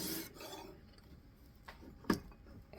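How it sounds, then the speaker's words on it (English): A steel knife blade is stropped with a few quiet rubbing swipes, faint rasping strokes separated by pauses, one sharper scrape near the end, in an otherwise quiet room. "I'm going to go ahead and strop it a little bit extra"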